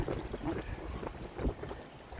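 Strong wind buffeting the microphone outdoors near water where fish gather, a continuous loud rumbling roar with gusty surges throughout and no speech.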